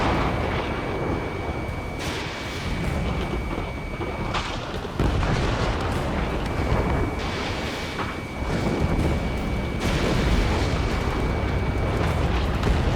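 Missile launches and explosions in the combat flight game Ace Combat 7 form a loud, dense, continuous roar, with several sharp booms and rumbling blasts layered over the engine and wind noise.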